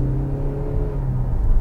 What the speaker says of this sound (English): There's the petrol engine now.